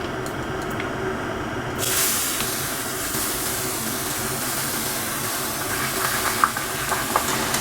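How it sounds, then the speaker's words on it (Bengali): Ash gourd pieces dropped into hot oil with bay leaves and nigella seeds for chal kumro chechki, bursting into a loud, continuous, close hissing sizzle after a quieter start, with a few stirring knocks near the end. "এবারে বন্ধুরা আমি চাল কুমড়োটা দিয়ে দিচ্ছি"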